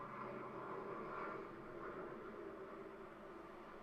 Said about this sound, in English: There's a plane going overhead, if you can hear that.